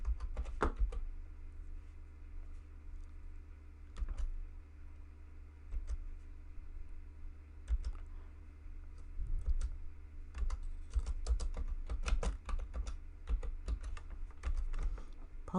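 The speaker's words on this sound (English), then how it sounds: "Apologies for my very slow typing." Slow typing on a computer keyboard, with irregular, unhurried key clicks close to the microphone over a steady low hum, and no voices.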